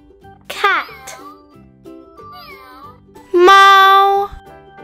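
A cat meows loudly and close up, with a short mew near the start, faint mewing in the middle and a long, drawn-out meow near the end, over a quiet looping background.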